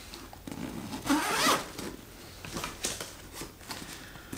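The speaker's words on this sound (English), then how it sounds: "Little metallic feeling zip pull." Metal zipper on a MindShift Gear Photocross 13 camera bag being pulled, a close, scratchy rasp with a louder burst mid-way followed by several shorter zip strokes and fabric handling.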